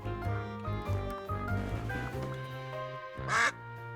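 Cartoonish duck quacks from the quack button in the video game Duck Detective: The Secret Salami, several quick quacks over a low game backdrop, ending in a louder, longer quack.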